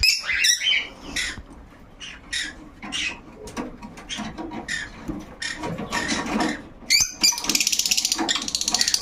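Cockatiels in a home breeding setup give loud, close squawks and bright chirps in irregular bursts, several birds calling over one another, ending in a rapid run of harsh calls.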